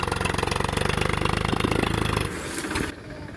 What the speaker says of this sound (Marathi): अशा पद्धतीने ट्रॅक्टरचं काम चालू मित्रांनो नांगरणीचं आपलं